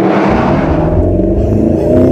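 Mercedes SLS AMG engine on the move, a loud, close, continuous deep rumble whose pitch slowly drifts as the car drives, with no voices over it.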